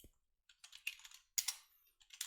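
Command being typed on a computer keyboard during a hacking class, heard as irregular bursts of close, crisp keystrokes with short pauses between clusters and no speech.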